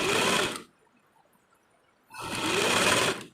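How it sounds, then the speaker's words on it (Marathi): An electric sewing machine stitches blouse panels together in two close, loud bursts of rapid whirring, separated by a short quiet pause, with no talking. "आता आपण ह्याला मेन पार्ट एकमेकांना स्टिच करून दाखवते."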